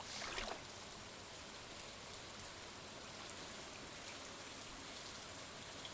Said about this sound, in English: getting into some nighttime rainy action going on here